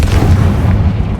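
A Confringo blast spell from Hogwarts Legacy erupts as a single loud, deep booming explosion that rumbles briefly and fades.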